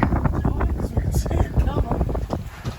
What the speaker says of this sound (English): It's a nice cool breeze.